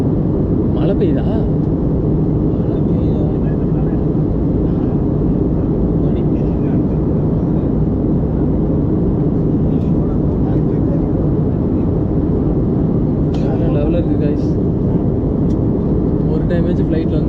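Steady airplane cabin drone during a flight to Goa, a loud continuous low rumble throughout, with faint voices talking now and then underneath.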